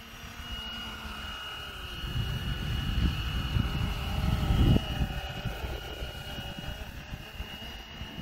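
A Flywing UH1 RC helicopter hovers with its rotor and motor running steadily throughout, a continuous whirring drone with a high electric whine that swells louder around the middle before easing back.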